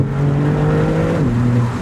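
A Maserati MC20 Cielo engine pulls hard nearby in sport mode, its pitch climbing steadily before a quick drop at a gear change.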